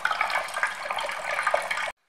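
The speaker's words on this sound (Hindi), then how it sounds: "आप इस कपड़े को इस तरीके से हाथ से प्रेस करेंगे तो ये सारा का सारा जूस आपका निकल करके तैयार हो जाएगा।" Ash gourd juice squeezed by hand through a cloth, a steady close trickle and splash of liquid pouring out, then it stops abruptly into silence.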